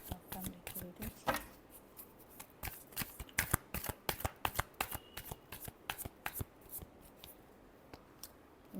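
Tarot cards are shuffled close up, giving a run of crisp, rapid riffling flutters and slaps in irregular bursts, quiet and dry with no talk over them.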